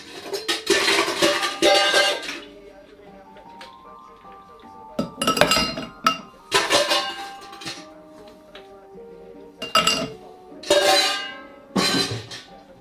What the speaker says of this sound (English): Now get your glass and put in the ice cubes.